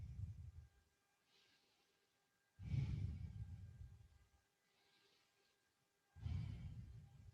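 Slow, deep breathing held through a yoga pose, three long breath cycles with quiet pauses between them, close and soft, with no talking.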